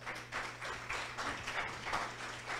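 Applause from an audience at a church liturgy event, a soft, distant patter of many hands clapping in steady rhythm throughout, quiet and even.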